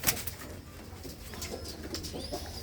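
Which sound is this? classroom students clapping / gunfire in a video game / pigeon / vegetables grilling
pigeon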